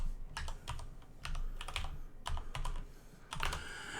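Keys clatter on a computer keyboard as Java code is typed, in irregular bursts of clicks with short pauses between them. The sound is close but fairly quiet, with no voice over it.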